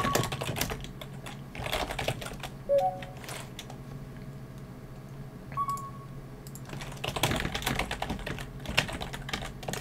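Fingers typing on a computer keyboard in quick bursts of clicky keystrokes separated by short pauses, fairly close but soft, with a couple of faint electronic tones in between and no speech.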